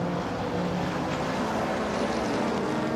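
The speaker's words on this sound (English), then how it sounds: "As Cameron Jones comes down to win race 1 for the Sports GTs." Race cars at a Sports GTs motorsport race, a continuous loud engine roar with no breaks, steady and fairly close.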